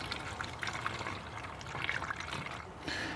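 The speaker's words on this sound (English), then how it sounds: "We'll take our distilled water, fill it up to 850." Distilled water is poured into a container up to the 850 mark, a soft, steady trickle and splash that grows slightly louder near the end.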